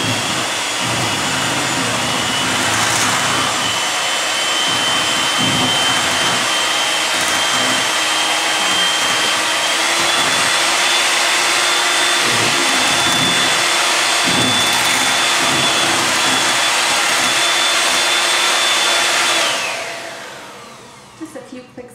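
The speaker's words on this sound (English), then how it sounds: "now I'm just going to mix this all together" Electric hand mixer blending whipped cream into pudding, a loud steady motor whir running continuously for about twenty seconds before switching off, with faint bowl clatter at the end.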